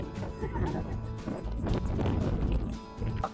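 A horse in Rajasthan neighs loudly and nearby, a shaky whinny mixed with clip-clop hoofbeats lasting a few seconds.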